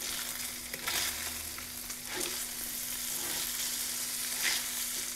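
Bologna and buns fry on a hot griddle, giving a quiet, steady sizzle with brief swells and scraping stir sounds and no talk.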